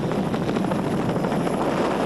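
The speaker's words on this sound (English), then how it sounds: "Our aerial view from our Colour 7 helicopter over the top of the mountain." A television helicopter flies over a mountain racing circuit with a steady, loud rotor thump and engine drone, continuous and close.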